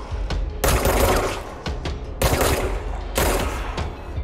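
Loud bursts of rapid video game gunfire in three main volleys separated by brief pauses, with scattered single shots between.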